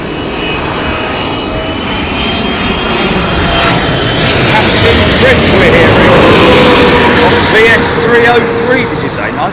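A Boeing 777 airliner arriving from Delhi on approach to land at London Heathrow in stormy wind gives a loud, steady jet engine roar that holds for the whole stretch, with wind noise underneath.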